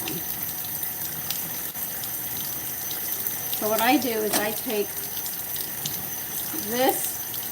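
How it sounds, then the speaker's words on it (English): Hot tap water runs steadily into a sink while wooden cutting boards are washed with soap, a constant close rushing hiss with someone talking over it. "I put soap on it with hot water and I scrub them"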